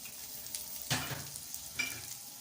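Minced chicken, egg and chopped onion fry in a pan with a steady soft sizzle, broken by two sharper scraping stirs, close and alone with no talk.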